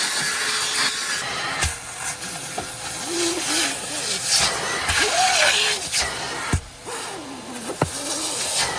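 A bristle brush scrubbing stains in a car interior gives off rough, rasping back-and-forth strokes, close and steady, with a few sharp knocks and a faint voice in the background.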